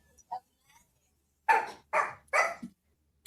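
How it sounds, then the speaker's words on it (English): A small Yorkie barks three times in quick succession, sharp and squeaky like a squeeze toy, close and loud after a brief faint yip. "That dog sounds like a squeeze toy."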